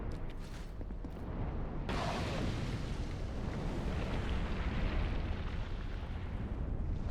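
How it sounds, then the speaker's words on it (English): A loud explosion in the video game Dark Souls II: a sudden broad roaring blast near the two-second mark, then a sustained rumbling boom that carries through to the end, with no talk over it. "when I press A, we're gonna get a loud explosion."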